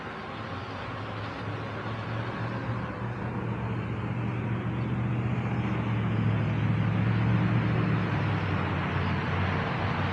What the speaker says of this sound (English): Got some heavier traffic this afternoon.